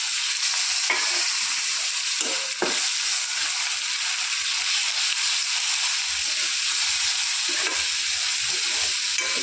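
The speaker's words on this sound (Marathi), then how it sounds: "कांदा आता कांदा सगळा तळून झाला आहे. आता टाकू टमाटर आहे." Tomatoes are added to browned, fried onions in a pan for egg curry, giving a loud continuous sizzle with a few sharp spatula scrapes and stirs breaking through.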